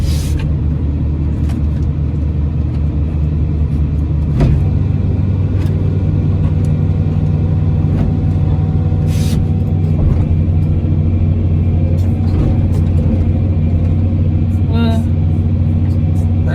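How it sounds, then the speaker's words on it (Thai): The engine of heavy machinery with a slack throttle cable revs while felling a mango tree in hard ground, giving a loud, continuous low rumble that swells as the revs rise and holds steady throughout. "เดี๋ยวเร่งเครื่องก่อน"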